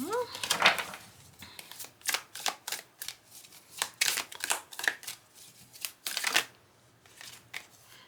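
Tarot cards are shuffled up close in a run of quick, crisp riffling and flicking bursts with short pauses between them, and no voices are heard.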